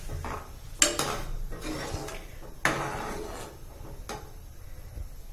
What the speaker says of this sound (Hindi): और इसे चला लेती हूँ।